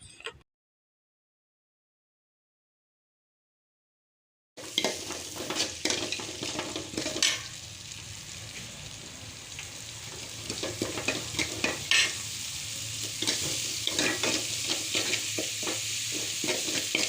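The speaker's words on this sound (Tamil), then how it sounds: "பெரிய வெங்காயம் குட்டி குட்டியாக நறுக்கி கட் பண்ணி சேர்த்துருக்கேன்." Chopped big onions fry and sizzle in a pan for a cauliflower kuzhambu, a steady hiss with scraping stirs, heard alone after a few seconds of silence.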